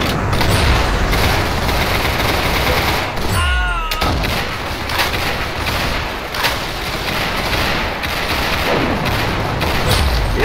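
Dense gunfire and booming blasts fill a Roblox first-person shooter match, loud and nearly continuous with sharp repeated shots and a swooping effect midway.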